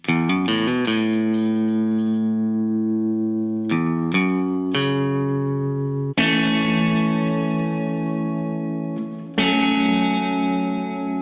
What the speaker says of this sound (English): On the first verse, I have these two electric guitar parts.